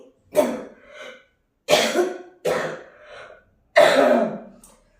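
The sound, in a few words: persistent cough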